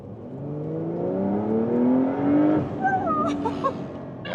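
Porsche 911 Carrera S engine pulling hard under acceleration from inside the car, a rising, swelling drone that climbs in pitch, then eases off with a few quick throttle blips near the end.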